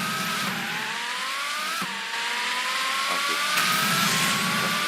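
Engine of an Apollo IE Intensa Evo car in a Roblox racing game, a steady loud synthetic drone that rises in pitch while accelerating, with a brief break near the middle and a faint squeal.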